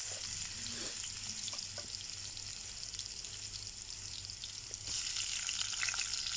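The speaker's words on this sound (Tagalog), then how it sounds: "igigisa lang natin yung ating bawang natin" Garlic and onion sautéing in a hot pan, a steady close sizzle with occasional stirring scrapes throughout and no talk.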